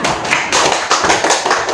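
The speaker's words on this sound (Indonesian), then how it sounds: "Kasih aplaus dulu buat temannya" Students in a classroom applaud a classmate, a short burst of close, uneven hand claps and taps with several distinct thumps in quick succession.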